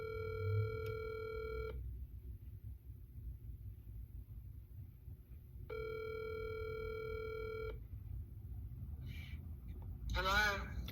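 Telephone call ringing back on a phone line, two separate electronic rings a few seconds apart, faint and alone, with a brief voice at the end.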